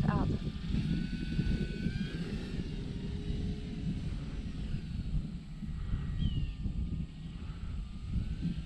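A small E-flite Air Tractor radio-controlled model airplane engine drones steadily overhead, rising and falling as it passes, with someone talking over the buzz and gusts of wind at Eastgate Park, Dothan.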